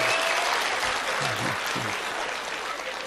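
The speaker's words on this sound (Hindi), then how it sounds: "हाँ ताली बजाओ, हाथ उठा" Audience applause at a comedic Hindi poetry recital, a dense steady wash of clapping that fills the whole stretch at even strength, with faint voices underneath.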